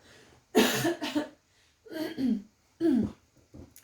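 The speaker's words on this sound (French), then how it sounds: "Pardon, je vais tousser un petit peu." Three separate harsh coughs in quick succession, close and loud, with brief quiet gaps between them and a faint breath at the end.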